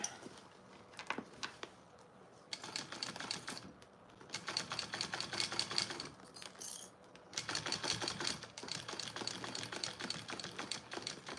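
A sewing machine runs a top stitch on a Mr. Heckles bag from Sincerely Jen Patterns, giving rapid mechanical clatter in several bursts separated by short pauses.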